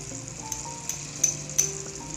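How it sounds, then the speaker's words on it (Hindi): Green chilies fry in a butt karahi, giving a soft, steady sizzle close by, with two or three light metallic clinks from stirring and no voices. "4-5 हरी मिर्ची, ये भी हम इसी स्टेप पे डाल देंगे और इसकी करेंगे अच्छी से भुनाई।"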